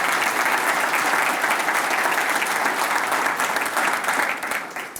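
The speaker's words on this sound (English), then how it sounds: "I'd like to give a round of applause for the guys that put the work together" Sustained applause from a crowd at a clubhouse ribbon cutting, steady clapping filling the room throughout with no pauses.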